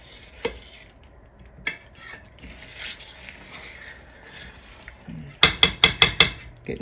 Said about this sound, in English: Getting those corners of the pot real good. Keep stirring.